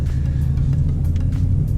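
A manual-transmission car pulling away as the clutch is released, heard as a close, steady low engine rumble with a slight rise in effort, no voices.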